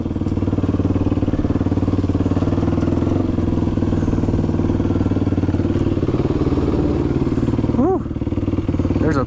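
A motorcycle rides steadily through an abandoned waterpark on sandy paths, its engine drone continuous and loud throughout, with a brief rising rev near the end.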